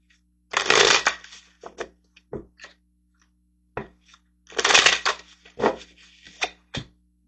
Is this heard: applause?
no